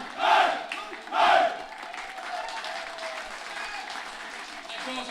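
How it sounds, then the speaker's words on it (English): A crowd at a night rugby match erupts twice in loud cheering and shouting, followed by sustained applause and clapping that carries on at a lower level. "I'd actually like everyone here tonight to give themselves a round of applause."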